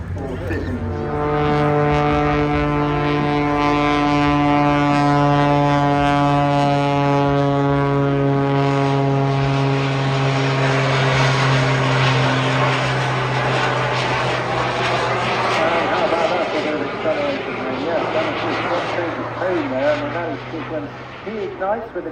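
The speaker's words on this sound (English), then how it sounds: "He ignites with a couple of little levers, those two little extra jet engines" Loud, sustained droning roar of a biplane's piston engine joined by two small auxiliary jet engines at a seaside airshow, with strong steady harmonics that shift and fade as it passes, and a commentator talking over it.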